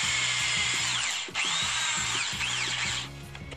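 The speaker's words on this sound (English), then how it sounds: "so I could drill the attachment holes" A power drill bores holes in perspex, running steadily at high speed, close and loud, with a brief dip in pitch and slight wavering, then winds down at the end.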